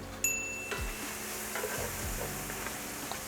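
Garlic cooking in a pan over medium-low heat: a soft, continuous sizzle with a few light clinks and scrapes of a utensil stirring, close and fairly quiet, with no talk.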